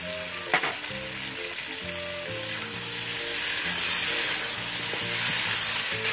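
Ginger and cumin paste frying in a pan for a black carp fish curry gives a steady, close sizzle with occasional stirring knocks throughout.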